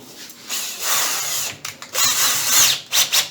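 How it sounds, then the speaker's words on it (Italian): A small power drill on a lathe tapping setup whirs in several short bursts, starting and stopping with a high, close whine between brief pauses. "Vediamo il trapanino."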